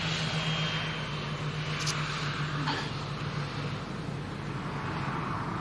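A Transavia Boeing 737-700 airliner at Manchester gives a steady, fairly distant jet roar with a low hum underneath, holding at an even level throughout.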